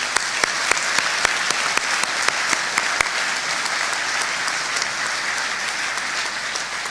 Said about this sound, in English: So a big round of applause for General Cavoli.